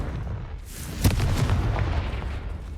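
A Confringo fire-blast spell erupts in Hogwarts Legacy with a sudden sharp crack and a rolling, booming burst over a steady low ambient rumble. A short swell comes before the main hit, and there is no speech.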